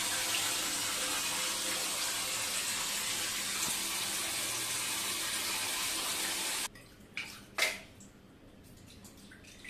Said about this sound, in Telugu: అందుకని వాటర్ పడుతుందమ్మా.